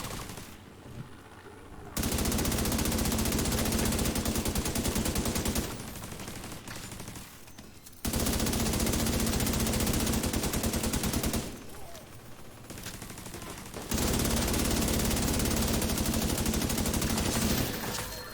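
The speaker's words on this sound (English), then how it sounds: "See, my AR does pretty good damage" Assault rifle fire in the video game The Division 2, sustained automatic bursts of roughly five to six seconds each, loud and close, separated by short quieter pauses with background game ambience.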